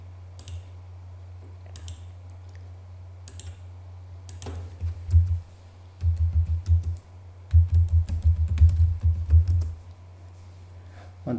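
Keys clatter on a computer keyboard as a network command is typed, quiet scattered taps at first, then denser bursts of quick clicks over a steady low hum.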